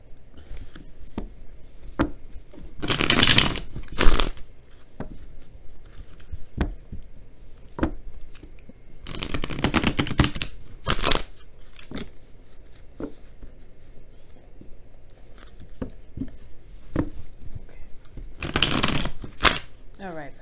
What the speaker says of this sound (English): just a second here to shuffle